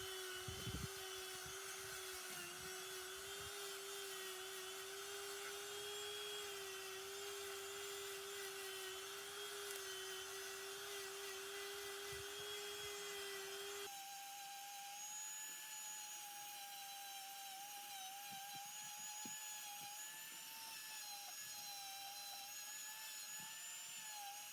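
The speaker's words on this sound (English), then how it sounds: "And now I get my Dremel out. Just clean it up a little bit more." A Dremel rotary tool cleans up a kookaburra mould with a steady, close, continuous high-pitched whine that runs unbroken throughout, shifting to a higher pitch partway through.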